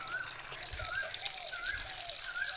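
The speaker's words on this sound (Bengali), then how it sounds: "কামরাঙ্গা গুলো খুব সুন্দর করে ধুয়ে নিচ্ছি।" Star fruit (kamranga) being rinsed in running water, a steady trickling and splashing stream that runs throughout at moderate level, with a few faint low thumps from handling.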